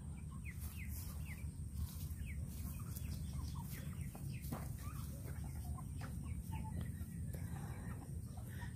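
A flock of Rhode Island Red chickens on a farm clucks and chirps continuously at low level, many overlapping calls near and far against a steady background hum.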